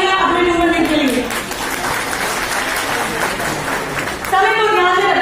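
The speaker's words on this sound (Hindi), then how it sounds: "जोरदार तालियां अपने वुमेन विंग के लिए।" Audience at a one-day women's convention of a political party in India breaking into loud applause, a broadband wash of clapping with speech from a speaker at the start and end.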